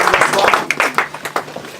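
Congregation clapping in a church, close and rhythmic with sharp regular claps mixed with cheering voices.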